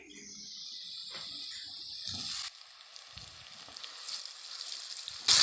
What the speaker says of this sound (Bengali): এখন আমি দিয়ে দেবো তেলের মধ্যে পেস্টটাকে